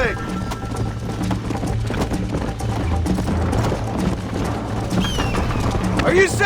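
Steady horse hooves clip-clop at a riding pace in the Red Dead Redemption video game, fairly close and continuous, with a voice calling out near the end and a brief whinny-like cry.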